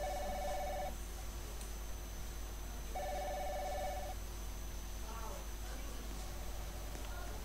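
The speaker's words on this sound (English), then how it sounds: "But I can hear the phone ring." A telephone rings in two short electronic bursts a few seconds apart against a steady background hum, with faint talk around it.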